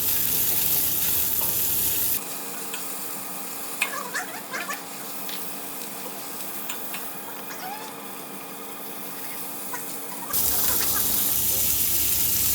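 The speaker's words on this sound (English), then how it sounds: "And then I'm going to add my ginger paste. And then my white onion." Ginger paste and white onion frying in a pan, a soft steady sizzle with a few stirring scrapes, fairly close, with background music at the start and end.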